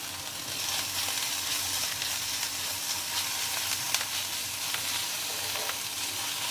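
Onion, grated ginger and garlic sizzle steadily in a hot pan while being stirred, a continuous close frying hiss with occasional scraping clicks and no talking.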